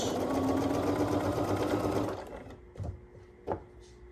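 A sewing machine stitches a quarter-inch seam on a quilt block, a loud steady whirr for about two seconds that then stops, followed by a couple of light clicks and bumps.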